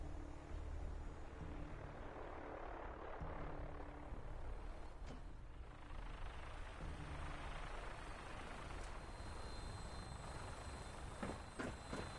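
Aircraft engine at full throttle in Fallout 4: a loud, steady roaring drone with a low rhythmic throb throughout, and a few sharp clicks near the end.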